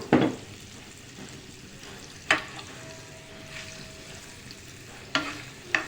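Chopped onions sizzle in melted butter in a pan, a low steady frying hiss broken by a few sharp scraping stirs, close and fairly quiet with no talking.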